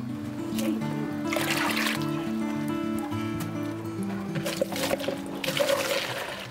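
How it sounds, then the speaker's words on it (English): Water poured from a jug into a bucket, a continuous splashing trickle with bubbling pours rising and falling over background music. "He's intent on filling up that bucket jug by jug."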